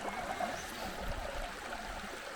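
A small stream trickles and gurgles near the head of a waterfall at Kitty's Gorge in Serpentine National Park, a soft, steady flow close by with no talking.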